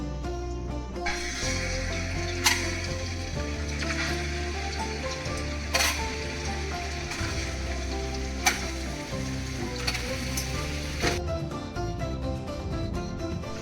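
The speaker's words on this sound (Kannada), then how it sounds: "ಮೊಟ್ಟೆ ಫ್ರೈ ಮಾಡ್ಕೊಳ್ಳೋಣ." Eggs frying in a pan with salt, chili powder and turmeric give a steady, soft sizzle under sustained background music, punctuated by a few sharp clicks and scrapes.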